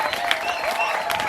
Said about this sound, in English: Clap for everybody that wants you to make you great.